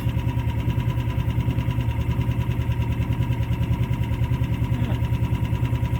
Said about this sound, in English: Let's see what it'll do in idle.